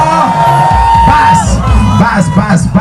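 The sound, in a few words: crowd cheering and ululating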